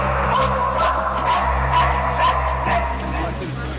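British police sniffer dogs barking and yipping in a rapid, repeated string of sharp barks with some whimpering, fairly loud and close, over steady background noise.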